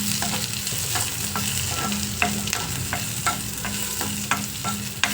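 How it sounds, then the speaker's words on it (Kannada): Tempering (oggarane) for a tamarind-based chutney frying in hot oil, a steady close sizzle broken by repeated sharp spatula scrapes and stirring clinks against the pan, with no voices. "ಈಗ ಇದನ್ನು ರುಬ್ಕೊಂಡು ಒಗ್ಗರಣೆ ಮಾಡೋದು"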